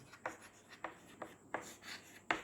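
Chalk or marker writing on a board during a lesson, a series of short scratchy strokes at irregular intervals, quiet and close, with no talk over them.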